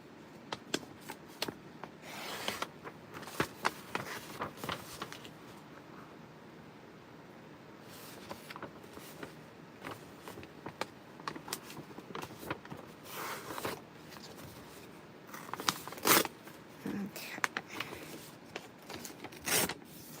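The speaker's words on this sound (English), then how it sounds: "So let's go ahead and tear this one out." Paper page torn out of a book for a junk journal, heard as a series of dry ripping and crinkling bursts, some sharp and some soft, spread through a quiet indoor setting with no talking.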